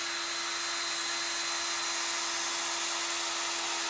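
A drill spins a wooden chair dowel against 400 grit sandpaper, giving a steady, even whine with a constant hissing rasp, faint and uninterrupted throughout.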